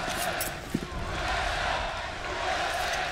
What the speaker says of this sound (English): The crowd trying to get Cloud9 into it.